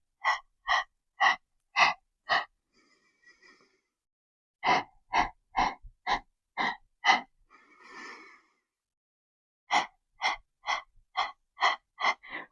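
Sharp, rhythmic breaths pushed out during a Pilates abdominal and glute workout, in quick bursts of about five puffs with short pauses and softer breathing between sets, close and clear with no talking.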